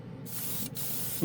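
A short, steady hiss of an airbrush fitted with a spray gun nozzle spraying paint from close by, with a brief pause partway through and a small sound at the end.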